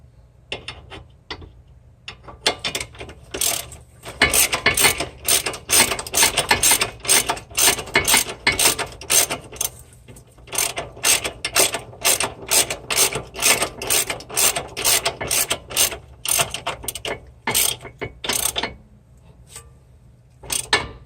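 A hand ratchet wrench clicks in quick bursts while tightening the bolts of a Hotchkis front sway bar and end links on a Lexus IS300. The close, sharp pawl clicks repeat in runs with short pauses, and no one speaks.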